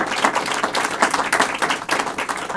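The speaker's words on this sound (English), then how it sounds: "that deserves applause" Applause at a Westchester County job-placement milestone event fills the room, a dense steady run of many hands clapping close by, with no break across the stretch.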